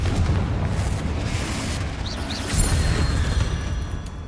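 A Confringo fire spell explodes in the Hogwarts Legacy video game, a loud rumbling boom that swells near the middle and rolls on as a dense low blast with some crackle, no talk over it.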